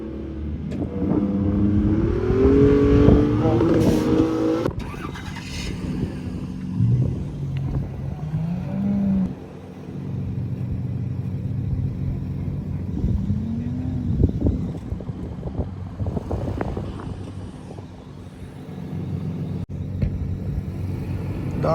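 An engine revs hard as a car drifts across the sand of the Liwa desert near Abu Dhabi, a loud rising and falling roar that lasts throughout, with people talking over it near the start.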